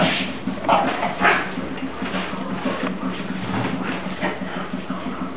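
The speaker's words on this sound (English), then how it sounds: "we are witnessing Riddick's temper tantrum. The dog" A bulldog throws a tantrum on a Coolaroo dog bed, whining, yipping and giving short barks in a continuous, agitated stream close to the microphone.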